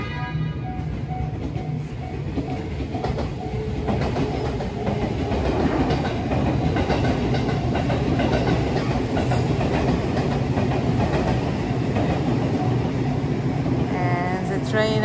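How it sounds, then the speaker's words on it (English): A train rolls past in Arita, Japan, giving a continuous loud rumble with rhythmic clickety-clack of wheels on the rails and occasional metallic squeals, sustained for the whole stretch. "You can see the train."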